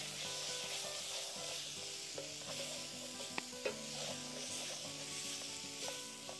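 Noodles stirred in a camp cooking pot, a soft continuous rubbing and sizzling texture with a few faint knocks, fairly quiet and steady throughout.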